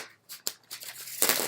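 Tarot cards being shuffled by hand, a series of quick papery riffles and soft flicks in uneven bursts, close and fairly quiet, with no voice.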